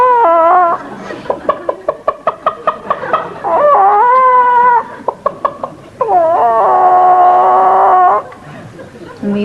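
A person imitates bantam chickens with rapid clucking bursts and a few drawn-out squawking calls, close and loud, in alternating short and sustained sections.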